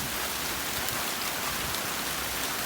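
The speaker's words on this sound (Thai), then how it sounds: "ฝนมาละ" Rain pours steadily in a forest, a dense, even hiss of drops falling on leaves and ground, close and continuous with no voices.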